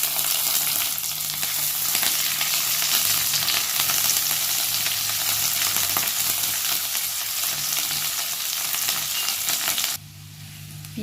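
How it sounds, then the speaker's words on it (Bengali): Chopped onions fry in hot oil with cinnamon, cardamom and bay leaf while a prawn dish is being made, giving a steady, close sizzle that drops off abruptly near the end. "পেঁয়াজ ভাজা হয়ে গেছে।"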